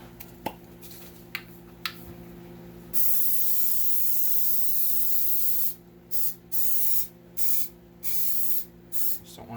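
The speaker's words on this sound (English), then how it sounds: "I'm going to go ahead and spray my 9x13 pan with some" Canola oil cooking spray hisses onto a 9x13 baking pan in several bursts: one long steady spray followed by a string of shorter puffs, close and clear over a faint low hum.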